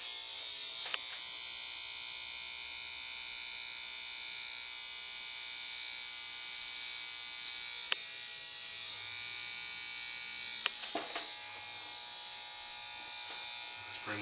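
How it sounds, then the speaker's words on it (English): Electric hair clippers cutting a taper give off a quiet, steady, close electric buzz with a few brief clicks and knocks as they move, and a person talks over the hum at times. "Clippers extended all the way out."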